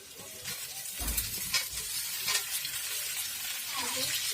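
Cauliflower florets are dropped into hot oil in a pan and stirred, giving a soft, steady sizzle with a few scraping clatters from the spatula, fairly quiet and close.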